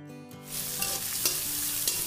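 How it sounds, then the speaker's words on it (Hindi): Onion hitting a pan of hot oil with bay leaf, black pepper and cardamom for kadai paneer, a sudden rising sizzle that holds steady with light stirring clicks, close. "अब इसके अंदर मैं डालूंगी ये अनियन"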